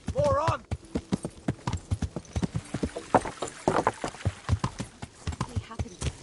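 Horse hooves clip-clopping in the video game Kingdom Come Deliverance, a brisk rhythmic run of close, distinct hoofbeats that continues steadily, with a short horse snort or whinny at the start.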